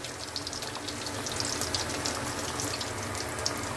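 Fish fillets frying in a pan for a Bengali fish masala curry, a steady close crackling sizzle with fine spattering pops running throughout, no voices.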